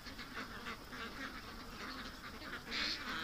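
Ducks on a lawn go after fresh grass clippings, giving repeated raspy quacks in short bursts that run steadily and fairly close throughout, with one louder call near the end.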